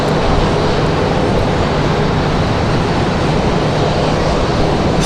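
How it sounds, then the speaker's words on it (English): An American Airlines Airbus A321 touches down at Raleigh-Durham airport with a loud, dense, unbroken roar of engines and rushing air holding steady throughout. "A321 touching down."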